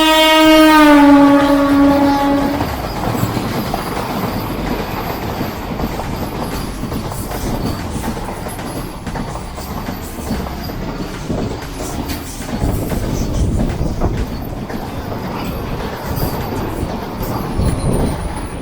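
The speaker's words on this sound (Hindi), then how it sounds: "तो अभी हमारी ट्रेन चल रही है मनवाल से" A passenger train rolls along from Manwal toward Katra, with a loud steady rumble of wheels and carriage noise throughout and a brief squealing tone at the start.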